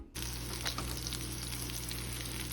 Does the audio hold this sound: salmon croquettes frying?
yes